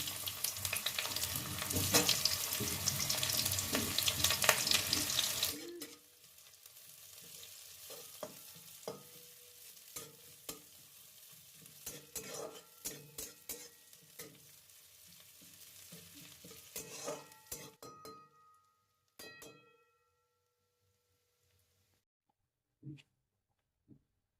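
Chili and onion frying in oil for cauliflower bharta, opening with a loud close sizzle that drops after a few seconds to quieter crackling and stirring clicks, then fades to near silence with a couple of faint knocks.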